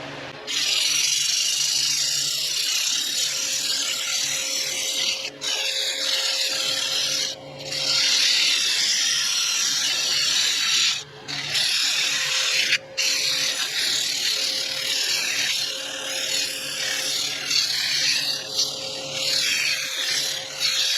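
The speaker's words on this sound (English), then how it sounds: "it's time to get a little sanding done. I'm going to start off pretty aggressive with some 80 grit" 80 grit sandpaper scouring a hard locust wood bowl, likely on a lathe, a continuous loud hissing abrasion up close with a low steady hum beneath and a few brief breaks.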